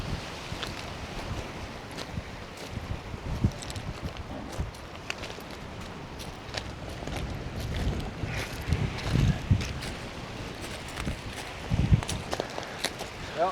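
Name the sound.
strong wind gusts by the ocean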